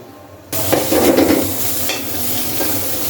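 Sudden loud sizzle as chili and onion hit a hot kadai, followed by continuous frying hiss with some stirring scrapes.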